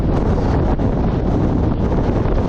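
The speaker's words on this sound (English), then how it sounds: "It's really windy up here." Strong, continuous wind roars and buffets the microphone on a hilltop, a loud rushing blast with no voices.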